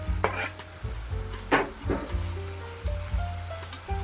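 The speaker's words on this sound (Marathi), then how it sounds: "कांद्यामध्ये लसूण टाकायचं तळायला कांद्याबरोबरच टाकून द्यायचं" Chopped onion and garlic sizzle in a pan for a kurdai recipe, a soft crackling fry with occasional stirring scrapes and clatters, fairly quiet and close.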